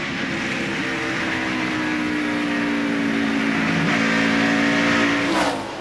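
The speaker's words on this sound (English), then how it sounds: "Now here's Biffle, the 98 car of Eldon Sawyer was up trying to pass the 10 car on the bottom." NASCAR Busch Series stock cars roar past in a steady, loud engine drone with a rising then falling pitch sweep as the pack passes, racing at the 2001 MBNA.com 200.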